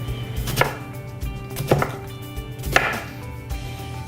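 Root vegetables are sliced with a knife on a cutting board: three sharp, close chops spaced about a second apart, with quiet kitchen ambience between them and no talk.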